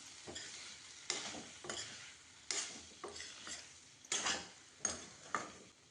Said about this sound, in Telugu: ఒక స్పూన్ ధనియాల పొడి, ఒక స్పూన్ గరం మసాలా వేసి ఒక 5 నిమిషాలు బాగా వేయించుకోండి